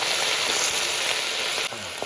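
Mustard greens frying in a pan, a steady loud sizzle that drops suddenly near the end, with a faint stir.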